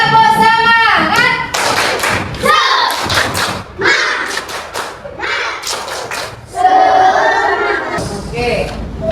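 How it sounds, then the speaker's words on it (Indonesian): A group claps in quick bursts of rhythmic patterns with sharp thuds, broken by short pauses and some shouting voices. "Tepuk semangat."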